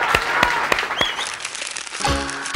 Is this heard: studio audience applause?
yes